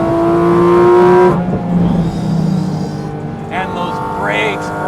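A Porsche GT4 RS Weissach engine revs hard toward high rpm on a night drive, a loud sustained harmonic whine that drops off as the throttle is lifted, with someone talking over the cabin noise afterward.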